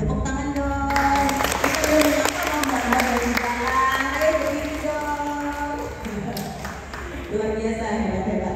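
Audience applause for breast cancer survivors at a church women's group breast cancer early-detection event, sustained broad clapping across the whole stretch mixed with voices and some background tones.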